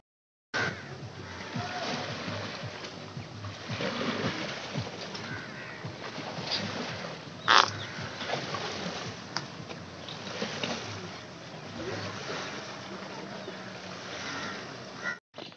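A boat moves on the water at Rawal Dam in Pakistan, with a continuous outdoor wash of water and engine rumble, moderately loud and steady, and one brief sharper knock midway.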